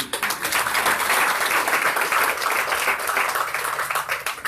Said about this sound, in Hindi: तीसरी बार ताली जरूर बजाइए